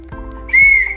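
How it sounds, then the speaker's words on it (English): A toy whistle blown in one short, bright, loud blast that lasts about half a second, heard alone after a brief low thump. "Whistle. Whistle?"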